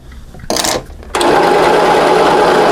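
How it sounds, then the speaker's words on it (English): Sewing machine motor whirring as the bobbin fills, after a brief burst of start-up noise and a short pause, then a loud, steady, continuous hum to the end. "Notice the machine is running when we're filling up the bobbin."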